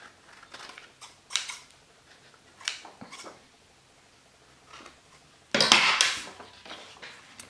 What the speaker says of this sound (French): je l'utilise celui-là pour couper la cartonnette